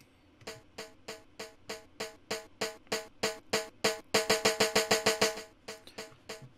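A timbal roll building up for a dembow reggaeton mix starts as evenly spaced single hits and speeds into a dense, louder flurry of strikes, then breaks off into a few final hits.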